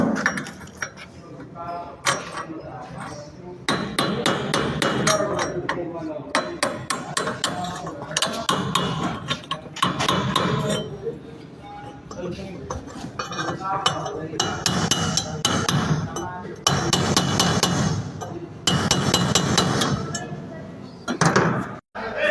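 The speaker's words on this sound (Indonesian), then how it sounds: "di sini saya menjelaskan tentang flat chisel. Berfungsi untuk meratakan suatu barang yang habis dilas." A flat chisel is hammered to level a fresh weld in a metal workshop. Sharp metallic strikes and clinks come in irregular bursts close by, with steady workshop noise underneath.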